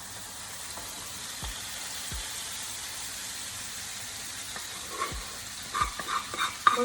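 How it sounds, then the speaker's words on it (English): Sauce is stirred into shrimp for a Cajun shrimp boil, with low background noise and scattered soft scrapes and thumps that grow busier and louder toward the end; no talking. "Let's add our sauce to our shrimp."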